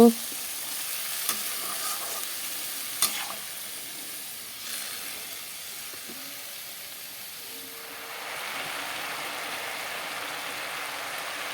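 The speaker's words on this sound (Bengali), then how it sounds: "এখন ভাজাটা করে নিই" Potatoes fry in a pan with a steady hissing sizzle, a few sharp clinks of stirring near the start, the hiss swelling louder toward the end.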